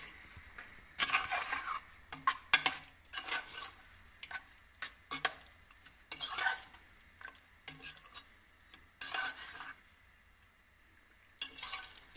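Spices and a bowl of yogurt being stirred into meat for achar gosht, giving wet, squelching strokes and scrapes of a spoon against the pot in irregular bursts, close up with no talking.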